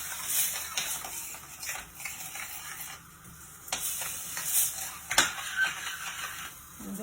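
Cooked pieces are stirred into masala in a pan for a Maithili godla dish, with a soft sizzle, a scraping spoon and a few clinks against the metal running on and off throughout.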